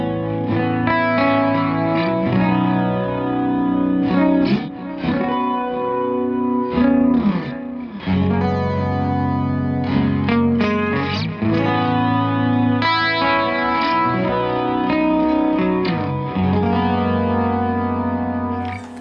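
An effects-laden guitar, washed with chorus, echo and reverb and slightly distorted, sustains lush shifting chords in a continuous shimmering progression with no voices.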